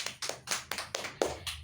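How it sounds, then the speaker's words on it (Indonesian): Primary school classroom clapping for a student group: a quick rhythmic pattern of about seven sharp unison claps from the class, fairly close, with no talking. "Beri tepuk tangan buat kelompok Firda"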